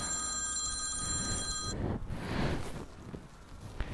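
A telephone rings in a steady electronic trill for under two seconds, followed by muffled wind noise and faint indoor rustling.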